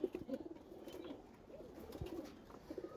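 Pigeon chicks, thirteen of them in a coop, making soft low cooing and murmuring calls, with a few faint chirps and light rustling, close and quiet with no talk.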